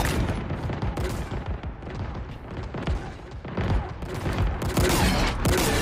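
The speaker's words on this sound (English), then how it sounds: "all these skewers just going off" Skewer weapons fire nonstop in a Halo Infinite custom match set in the sky: dense, overlapping heavy shots and booms pile into a loud, chaotic volley throughout.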